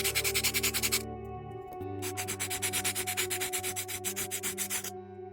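A sanding stick rubs across a scratch-built model in quick back-and-forth strokes, close and distinct, with a short pause before the rasping resumes.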